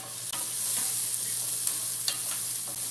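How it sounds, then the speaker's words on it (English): Garlic goes into a pan of frying onions, giving a loud, close, constant sizzle with a few soft stirring scrapes and clicks, no voices over it. "Now I'm gonna throw the garlic in because we don't put the garlic in at the same time as the onions"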